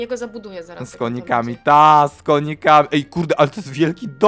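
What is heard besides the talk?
No distinct noise like a dog, phone or traffic.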